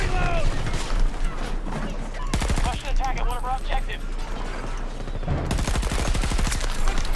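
Rapid bursts of M5 rifle fire in Battlefield 2042, loud and close, with a sustained volley at the start and another near the end, separated by quieter battlefield clatter and distant shots.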